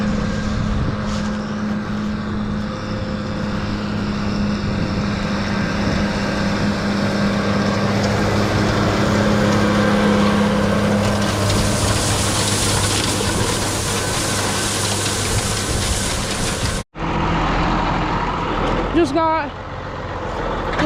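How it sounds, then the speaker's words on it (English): An MX-120 tractor pulls a six-star hay tedder across a field, its engine droning loud and steady with rattling machinery, briefly cutting out near the end before a quieter stretch. "Hart is tedding with the MX-120 with the neighbor's 6-star tedder."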